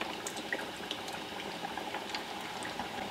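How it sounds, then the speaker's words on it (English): Snowball pastry dough frying in hot oil, a soft continuous bubbling sizzle with scattered small pops, faint and even throughout. "And I put it into the hot oil."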